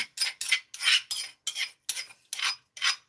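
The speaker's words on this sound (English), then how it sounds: "So I've crushed it a little bit and I'm adding it to the saucepan" A crushed ingredient is tipped into a saucepan in several quick scraping, rattling bursts, about eight sharp pours and scrapes separated by short silences, heard close and alone.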